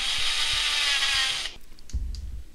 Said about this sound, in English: when you're drilling plexiglass